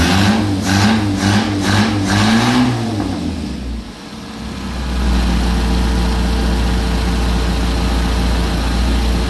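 A car engine freshly swapped into a Ford runs loudly and close, first with a throbbing, wavering revving tone that dips, then settling into a steady, rumbling idle.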